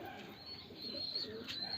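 Pigeons coo at a loft, a faint, soft throaty cooing that carries through a brief quiet stretch with low background murmur.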